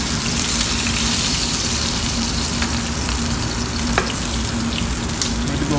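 NY strip steak frying in oil in a pan, a steady close sizzle and crackle with small pops running throughout, no talking.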